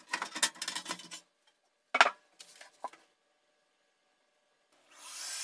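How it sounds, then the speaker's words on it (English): Screws are removed from the top cover of a 1987 Marantz PM-64 II amplifier, heard as close, sharp metallic clinks and scrapes in short clusters with quiet gaps between, then a soft rushing hiss at the end. "starting from removing the 6 screws that hold the top cover"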